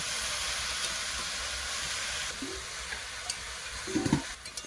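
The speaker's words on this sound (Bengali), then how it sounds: "সব দিয়ে মশলা সব দিয়ে দিয়েছে ভালো করে কষে নেবো" Turmeric and chilli powder spices sizzle in a wok, a continuous hiss with occasional utensil scrapes and clinks toward the end.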